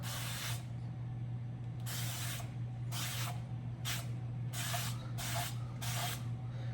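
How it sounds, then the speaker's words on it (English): Olive oil sprayed from a can onto a baking tray in a kitchen: about seven short, close hissing bursts in an irregular rhythm, with a steady low hum underneath. "I'm just gonna spray my pan with the olive oil"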